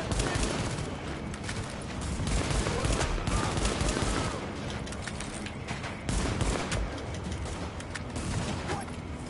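Sustained gunfire in the shooter game The Division, dense bursts of rapid shots crackling steadily throughout with scattered louder reports and a faint voice now and then.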